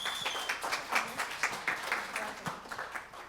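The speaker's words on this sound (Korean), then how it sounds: "해벤저스 팀을 큰 박수로 맞이해 주시기 바랍니다." Audience applause welcomes a high school student team at a presentation event in Namhae, steady clapping at moderate distance, somewhat faint with overlapping claps across the hall.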